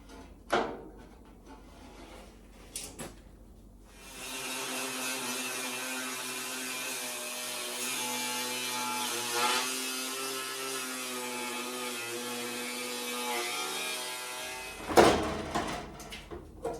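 Cutting metal straight across on the floor tunnel of a 1972 VW Super Beetle, a continuous harsh grinding whine of about ten seconds, flanked by short knocks and handling noises and heard alone.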